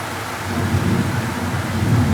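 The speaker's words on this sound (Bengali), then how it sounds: "কি পরিমাণে বৃষ্টি হচ্ছে যার জন্য তোমাদের সাথে কথা বলতে পারছি না, শুধু বৃষ্টিরই আওয়াজ পাওয়া যাচ্ছে।" Heavy rain pours steadily with a deep thunder rumble beneath it, a dense continuous roar filling the space with no voices.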